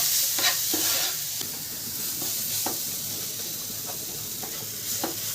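Spices with salt, chili, turmeric and cumin powder fry in a pan with a steady close hiss and sizzle, while a utensil stirs in repeated short scrapes.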